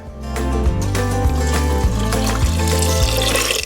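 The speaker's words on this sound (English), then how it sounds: "let's add in the rest of our water" Water pours steadily into a one-pot meal in a cooking pot, a continuous splashing gush that holds at an even loudness throughout.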